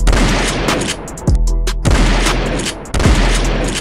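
Gunfire at an outdoor gun range: loud, sharp shots in quick succession, each followed by a short echo across the open range.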